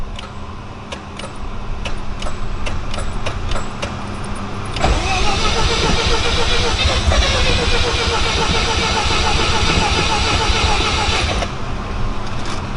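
A Mazda RX-7 FC, first started after sitting six years: a steady ticking gives way to the engine running loud and close for several seconds, its pitch rising and settling as it revs, before it drops back to quieter ticking.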